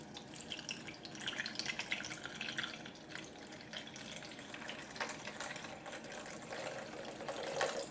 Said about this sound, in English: I'll pour in 10 ounces of water.